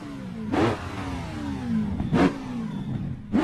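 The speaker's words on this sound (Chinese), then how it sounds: "V12发动机干爆你！" A Lamborghini Revuelto with a V12 engine revs in three sharp, loud bursts, with a lower whine falling away between them.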